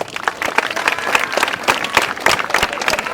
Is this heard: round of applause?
yes